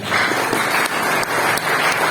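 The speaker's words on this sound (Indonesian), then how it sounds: "Kasih tepuk tangan dulu" A church congregation at a Pentecost service claps together, a continuous, close crowd applause with a few sharper surges of hands throughout.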